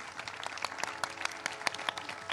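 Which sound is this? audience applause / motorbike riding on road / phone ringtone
audience applause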